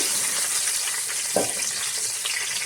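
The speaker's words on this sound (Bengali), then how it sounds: "গোটা এলাচ দারচিনি দিয়েছি এটাকে আমি ভেজে নেব" Bay leaves, whole cardamom and cinnamon frying in hot oil for a Bengali mutton curry, a steady close sizzle with a brief louder crackle partway through.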